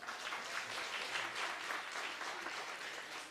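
Steady, dense applause from an audience at a responsible entrepreneurship awards ceremony, sustained clapping from many hands without a break for the whole stretch.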